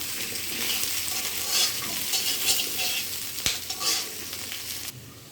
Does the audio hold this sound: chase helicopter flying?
no